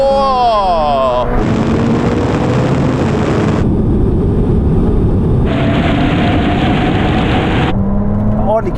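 A Ferrari 296 GTB, McLaren 765LT and Porsche GT2 RS accelerate hard in a rolling drag race from 50 mph, loud engine roar climbing through gears with pitch sweeps and brief shift breaks, close up.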